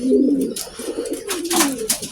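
Pet pigeons cooing close by, with soft repeated throaty coos and a few rustling flutters, loud and clear with no talking.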